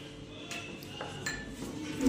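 Semolina and salt get mixed in a bowl for samosa dough, a few light clinks and scrapes of a spoon against the bowl, close and brief.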